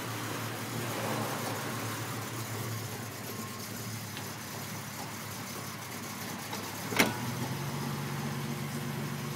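A 1965 Valiant AP6 car engine runs steadily as the car pulls away, a low continuous rumble with a single brief knock partway through.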